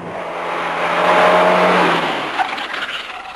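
A Peugeot 205 GTI at a hill climb race passes with a rising then falling engine roar and a tire squeal near the peak, ending in a few lighter knocks.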